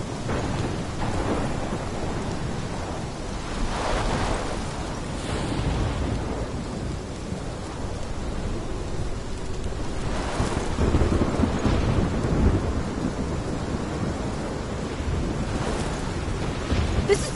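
A thunderstorm in the Life is Strange video game: steady heavy rain with rolling rumbles of thunder swelling and fading throughout, dense and continuous with no pauses.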